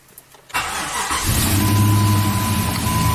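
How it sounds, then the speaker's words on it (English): A truck engine cranks and catches after a short silence, then settles into a steady loud idle with a faint whine, the vehicle's fault being a dead oxygen sensor. "and I'll start the truck up"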